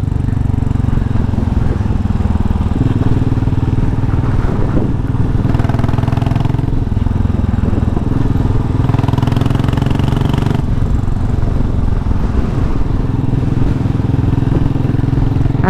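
Royal Enfield Classic 500 Limited Edition motorcycle running steadily while being ridden, its single-cylinder thump loud and close throughout with a slight rise and fall in engine note.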